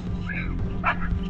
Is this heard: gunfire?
no